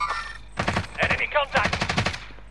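Rapid automatic gunfire in the battle royale game Call of Duty: Warzone, dense rattling bursts across the whole moment, loud and close, overlapping with talk from players in the squad.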